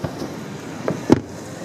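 Fourth of July fireworks pop in the distance, a few soft, scattered thuds and cracks, with the loudest burst near the end, set against a quiet outdoor background.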